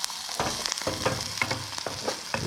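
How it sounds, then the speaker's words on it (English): A chickpea and tuna burger sizzles steadily in a frying pan after being flipped, with scrapes and soft thumps of a spatula over the continuous frying hiss. "we just flipped this beautiful burger now"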